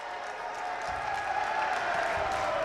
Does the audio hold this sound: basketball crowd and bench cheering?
yes